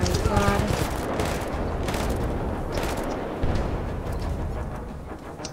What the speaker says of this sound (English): we have to use the assault rifle